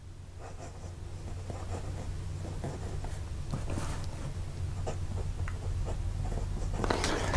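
A bent-nib fountain pen scratches across paper in short, close strokes and pauses, quiet but distinct scraping over a low steady hum.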